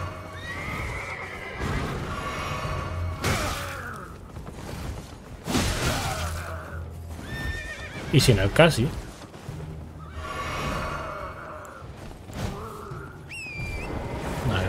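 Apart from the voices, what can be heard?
horse neighing in the video game Elden Ring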